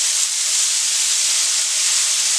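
Vegetables hitting a hot pan for chicken fried rice give a steady, loud hiss of sizzling that holds evenly from start to finish with no talk over it.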